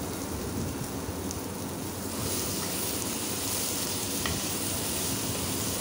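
Small onions with salt sauté in a pan, giving an even, dense hiss that runs without break, with no voices.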